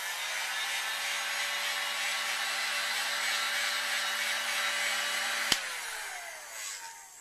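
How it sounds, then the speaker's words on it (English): A heat gun blows a steady, loud whooshing drone while drying a Talon grip on a Glock 21 pistol, with a single sharp click near the end before it winds down. "Just going to hit it with the heat gun quick just to finish drying it."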